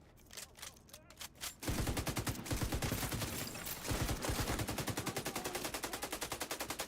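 Rapid automatic gunfire in the video game Division 2, after a few scattered shots a sustained fast burst of dense, evenly spaced cracks keeps going to the end, loud and close.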